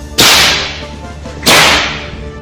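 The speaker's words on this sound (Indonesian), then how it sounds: "Sejenak kemudian terdengarlah cambuk itu seolah-olah meledak di udara." A whip spun overhead cracks sharply in the air twice, about a second and a quarter apart, each loud snap tailing off slowly, with no voices.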